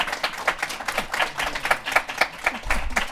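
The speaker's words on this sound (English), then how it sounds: "A round of applause for our panelists." A small conference audience claps for a panel of speakers, a loose scatter of light handclaps that is moderately close and fairly quiet, with no voices over it.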